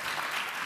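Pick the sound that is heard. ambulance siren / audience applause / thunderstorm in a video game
audience applause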